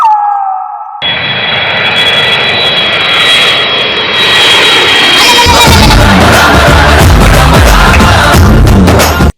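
Loud jet airliner engine roar sustained throughout, rising into a heavy rumble as if taking off, used as a sound effect in a Telugu TV comedy skit; no speech.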